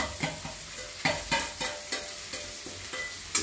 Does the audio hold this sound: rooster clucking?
no